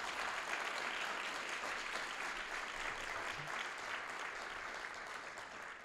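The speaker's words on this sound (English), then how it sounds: "So I would like to give everybody a big round of applause for this evening." An evening audience at an awards reception gives a round of applause, a dense, even clatter of clapping that holds steady throughout and tapers slightly at the close.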